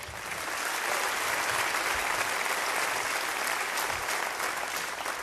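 Steady, dense concert-hall applause from a seated audience greeting a musician, even and sustained from start to finish with no speech over it.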